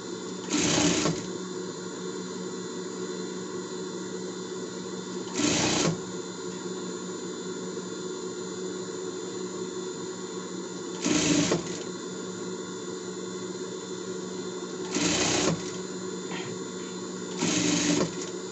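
A sewing machine sews a three-point stitch along the collar of a child's Monsters, Inc. costume: a constant close mechanical hum punctuated by five short, louder bursts of rapid stitching.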